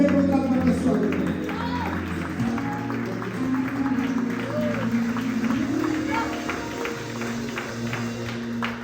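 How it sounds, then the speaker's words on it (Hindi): A church congregation claps loudly and rhythmically during live worship, with steady hand claps running over sustained musical tones and singing. "आइए जोर से ताली करके खुदा का स्वागत करें।"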